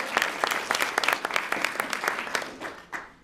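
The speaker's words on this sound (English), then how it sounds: "so just give him a round of applause for all that." An audience at an International Day of the Girl event breaks into applause, with dense overlapping claps sustained throughout and fading slightly toward the end.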